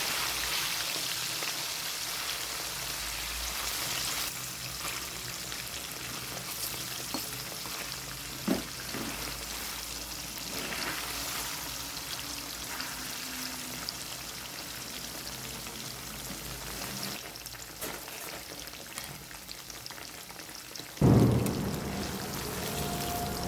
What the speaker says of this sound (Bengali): খুব কড়া করে ভাজবো না, হালকা ব্রাউন কালার এলেই তুলে রাখবো।